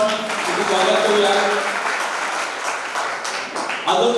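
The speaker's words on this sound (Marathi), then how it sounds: "जोरदार टाळ्या वाजवून आपण तिथे स्वागत करूया." Audience applause at a state-level matrimonial bride-and-groom introduction gathering in 2024, a steady crowd clapping that runs throughout, with an announcer's voice mixed in.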